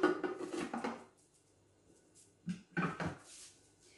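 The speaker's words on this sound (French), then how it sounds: "On va insérer le couvercle et le gobelet doseur." A Thermomix lid and measuring cup are fitted into place, giving a few short plastic clacks and knocks up close, with a quiet pause between two bursts of handling noise.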